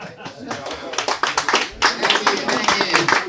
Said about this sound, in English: Please, clap louder.